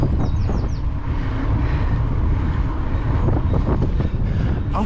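Strong wind rushing over the microphone of a bicycle rider out on a lap, a loud steady buffeting roar that runs without a break from start to finish.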